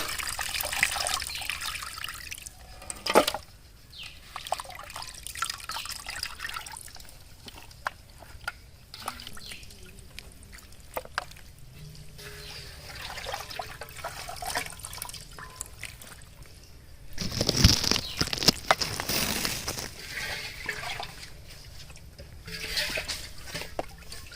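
Running water and splashing as washed chicken meat is lifted out in a home kitchen, with intermittent trickles and a few louder splashes close by.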